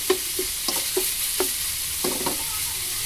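Longganisa sausage browning in oil in a pan, with a steady sizzle and a series of short scraping stirs spaced roughly every half second, close and fairly quiet, with no talking.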